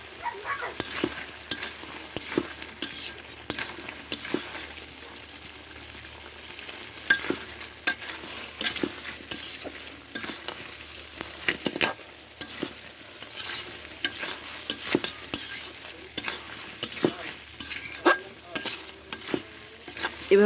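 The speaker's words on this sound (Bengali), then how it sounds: "এভাবে আমি 2 মিনিটের মতো কষিয়ে নেব" Taro and crab being sautéed in a pan, with steady sizzling and frequent scraping stirs of a utensil against the pan, fairly close and with no talking.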